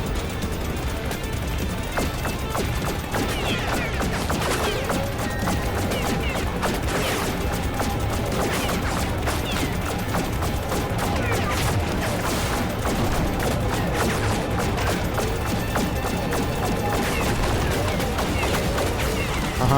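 Rapid, continuous gunfire crackles through a video game, with bursts of shots and crashes layered densely over a busy background for the whole stretch.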